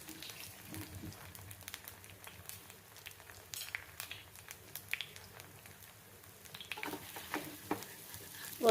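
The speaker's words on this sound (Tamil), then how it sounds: "ரெடி பண்ண பேட்டிஸை வந்து தவா ஃப்ரை பண்ணி எடுத்துடலாம்." Potato cutlet patties shallow-fry in a little oil on a tawa, giving a faint, soft sizzle with scattered light crackles and a slightly louder bump at the end.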